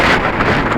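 Strong wind of about 10 to 12 mph buffets the microphone in a loud, continuous roar with uneven gusty swells.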